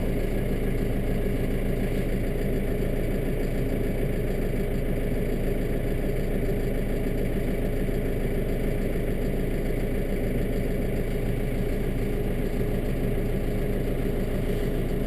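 A Kubota M7 tractor's diesel engine idles after a cold start, a steady, continuous low rumble at an even level throughout with no talking.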